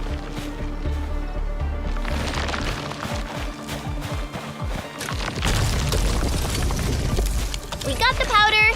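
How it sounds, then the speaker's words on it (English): Originium ore being shredded to powder by a machine in the video game Arknights: Endfield, loud grinding crashes and booming rumble with heavy clattering, ending in a bright chime. "I say it's time to shred some Originium ore to powder"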